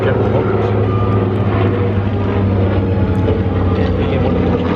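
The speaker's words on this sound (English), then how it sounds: "The TBM Avenger, designated TBM torpedo bomber, originally manufactured by General Motors" A TBM Avenger torpedo bomber, a General Motors-built propeller warbird with a radial engine, drones loudly and steadily overhead at an air show, a continuous throbbing engine roar with no breaks.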